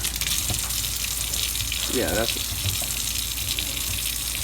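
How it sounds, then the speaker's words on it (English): Tap water gushing steadily into a sink while a paint sponge is rinsed and squeezed, a constant close rush with a brief gurgle midway and a short spoken remark over it. "squeeze water out of it and the water is coming out clean"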